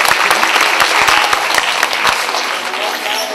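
Talent show audience applauds in a loud, dense burst of many hands that gradually thins and fades toward the end, with a voice speaking partway through.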